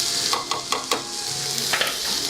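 Tomatoes sizzle in a hot pan as their juice cooks off, a steady crackling hiss broken by a few sharp scraping stirs.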